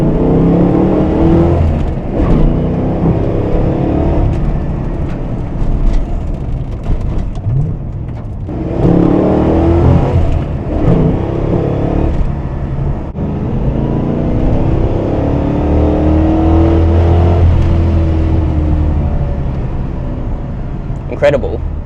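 A 1997 Holden HSV Clubsport VS Series 2 engine rising under gentle acceleration, a steady low drone heard from inside the cabin and swelling in a few surges, with someone talking over it throughout.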